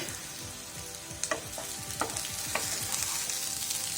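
Potatoes for a pepper fry crackle in a pan while being stirred. Steady sizzling carries intermittent clinks and scrapes of a spatula, with bursts of crisp popping throughout.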